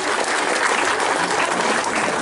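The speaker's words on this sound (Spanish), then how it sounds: "Un fuerte aplauso, por favor." Loud, dense applause from a crowd at a preschool inauguration in Santiago Ilamacingo, honouring an IMSS Bienestar doctor; close, sustained clapping fills the whole stretch without any voices.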